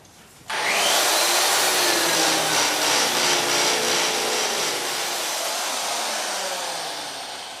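An eraser wheel on a power tool strips a decal from the hood of a 1985 Mustang GT, a loud, steady whirring grind that starts abruptly and rubs on continuously, easing slightly toward the end.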